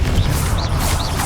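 Confringo blasting spell explosion in Hogwarts Legacy, a brief, loud, dense rumbling burst with whooshing effects filling the whole moment.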